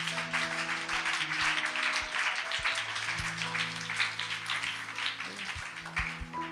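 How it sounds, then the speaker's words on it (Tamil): A church congregation at a Sunday service claps hands in a dense, steady patter, heard together with sustained keyboard-like musical tones underneath. "நல்லா கைத்தட்டினீங்க போங்க."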